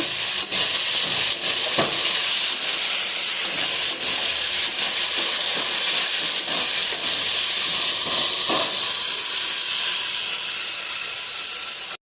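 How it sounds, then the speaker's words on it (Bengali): Three whole green chillies sizzle loudly in a pan with cashew paste, a steady close frying hiss with faint stirring scrapes throughout. "দিয়ে দিচ্ছি 3টা কাঁচা লঙ্কা আস্ত।"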